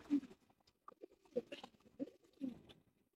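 Pigeons sit together and give soft, low cooing calls in several short bursts, faint and close, with light rustling and pattering between coos.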